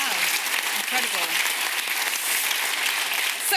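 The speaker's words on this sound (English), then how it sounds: "I think that deserves a round of applause just right there." Audience applause at a clinical entrepreneur pitch event, a continuous, even roar of clapping from a large crowd lasting throughout, with a voice talking over it early on.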